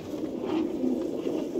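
Soft, low pigeon cooing from a newly bought high-quality breeding pair held in a bird shop, a steady murmuring coo running continuously at moderate level with no talk.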